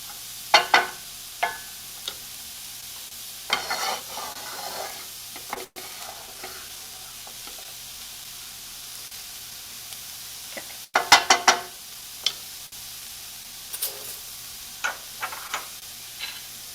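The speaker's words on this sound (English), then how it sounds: "I'm listening to the sound of this sizzle" Onions sizzling gently in a pan for green shakshuka, a steady soft frying hiss punctuated by periodic bursts of stirring and scraping, close by.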